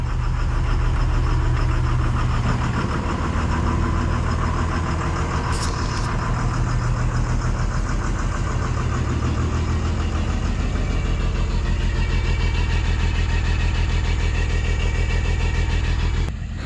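A school bus engine idles steadily just after being cranked, a continuous low rumble with a faint knocking texture that stays loud and close throughout, with no talking over it.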